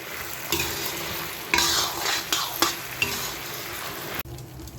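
Fried idli pieces being stirred and fried in a pan for idli Manchurian, a loud sizzle with bursts of scraping and tossing strokes of a spoon against the pan.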